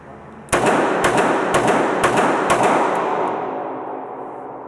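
A Smith & Wesson 642 .38 Special revolver fires five sharp, loud shots at a steady pace of about one every half second, each with a booming echo that decays slowly after the last shot.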